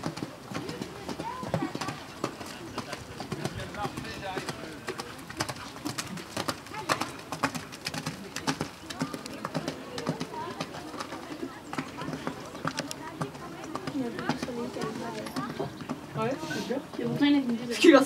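Horses' hooves clip-clop and pound in an irregular, moderately distant rhythm at an equestrian challenge event, with people chatting throughout and birds cooing in the background.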